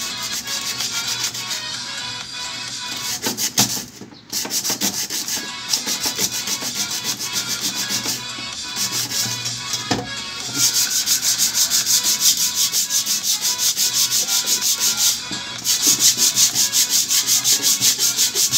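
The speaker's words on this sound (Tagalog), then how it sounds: "Pero subukan natin itong papel de liha." Sandpaper scrubs a metal cooking pot in long, continuous abrasive strokes, loud and close, with a few brief pauses between bursts of grinding friction.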